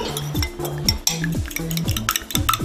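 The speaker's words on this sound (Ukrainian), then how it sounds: "ми беремо, збиваємо так два яєчка" Rapid rhythmic clicking and tapping of a whisk against a bowl, beating eggs in quick repeated strokes, close up.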